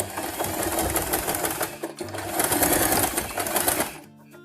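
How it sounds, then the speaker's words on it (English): A domestic sewing machine stitching fabric for a toddler's turban hat, running as a steady fast whirring rattle that pauses briefly near the middle, then resumes and stops before a quiet tail. "Now I will sew here to secure the fabric."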